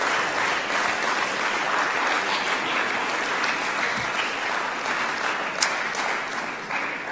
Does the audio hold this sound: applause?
yes